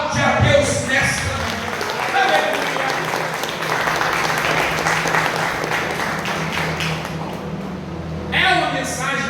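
A church congregation applauds at a Portuguese-language service, loud continuous clapping filling the room between stretches of a preacher's voice at the start and end.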